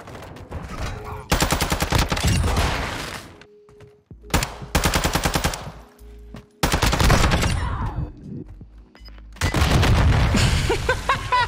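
Rapid automatic gunfire bursts in a first-person shooter video game shootout, several long loud rattling volleys separated by short pauses, with faint voices talking between them.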